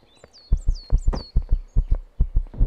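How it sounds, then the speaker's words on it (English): Heartbeat from low stamina in the survival game Empyrion: a steady, loud run of deep double-thump beats repeating evenly, with faint high tones above. "Heartbeat, stamina, non-existent."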